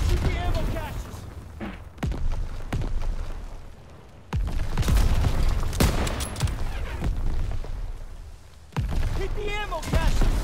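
Gunfire and explosions in Call of Duty as ammo caches are shot, loud bursts and booms in quick succession, with shouted voices mixed in over the battle.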